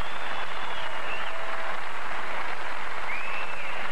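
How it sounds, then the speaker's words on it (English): At the 2000 US Open bowling tournament, an arena crowd cheers and applauds a bowler going for a strike: a loud, steady wash of clapping and cheering with a few faint whistles. "Listen to this crowd wanting her to strike."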